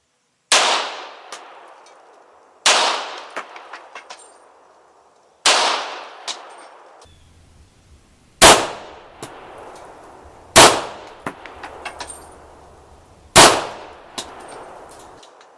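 Six sharp handgun shots, spaced two to three seconds apart, each strike steel targets with a bright metallic clang that rings out and fades before the next shot.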